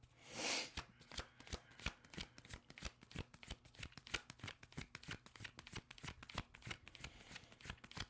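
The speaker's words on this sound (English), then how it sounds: "Let's do another shuffle." Tarot cards are shuffled rapidly and repeatedly, a dense run of crisp riffling clicks and slaps, close and fairly quiet, with no talking.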